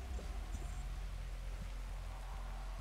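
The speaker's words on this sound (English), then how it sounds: "it's raining." Rain falls in the Dead by Daylight video game, a steady soft hiss of drops on surfaces with faint low rumbles underneath.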